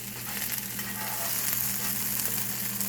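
Raw hashbrowns fry in unsalted butter in a hot pan, a close, steady crackling sizzle that runs the whole time with a faint low hum beneath.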